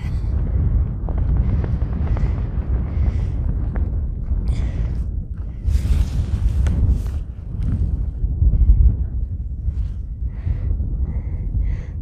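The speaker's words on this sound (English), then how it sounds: "It's just cold and windy, and a bit cloudy." Gusty wind on a cold, cloudy mountain trail buffeting the microphone, a low roaring rumble with surging gusts, close and loud throughout.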